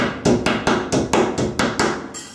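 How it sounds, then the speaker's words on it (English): Plastic wall anchors are hammered into drilled tile during a frameless glass shower door install: eight sharp, evenly spaced hammer taps, close and loud, then a brief pause. "the anchor goes to the end, don't keep hitting it because it's a chance that you break the tile"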